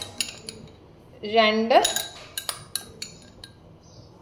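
A metal spoon clinks a few times against a pot as powdered cardamom goes into beetroot payasam, a sweet Kerala milk pudding, with sharp close taps and scrapes, and a brief voice speaks alongside.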